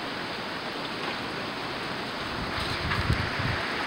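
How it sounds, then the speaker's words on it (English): Heavy rain pours off a porch during a severe overnight storm, a steady loud broadband wash of falling water with a few heavier splashes near the end. "That's how much rain we're getting off the porch."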